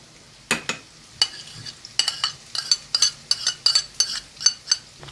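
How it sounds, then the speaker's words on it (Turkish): Eggs with white cheese being whisked in a bowl for a green pepper omelette, giving irregular bursts of sharp metallic clinks and taps of utensil on bowl, quickening toward the end against a quiet background. "Yumurtalarımızı biraz çırpıyoruz."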